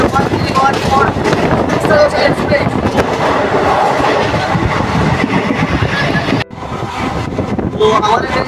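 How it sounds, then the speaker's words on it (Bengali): The Teesta Torsa Express rolls slowly, heard from inside as a loud, rattling rumble of wheels and carriage with wind buffeting the microphone. A brief dropout comes near the end. "আমাদের ট্রেন এখন খুবই স্লো চলছে"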